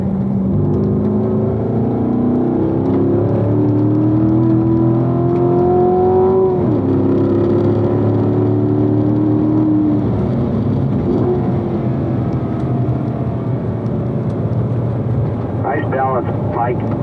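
A race car laps the Spring Mountain circuit, its engine droning and rising and falling in pitch through corners, loud and continuous, while an instructor talks over it.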